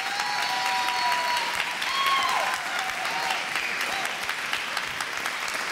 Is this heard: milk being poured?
no